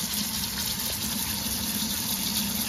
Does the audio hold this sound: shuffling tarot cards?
no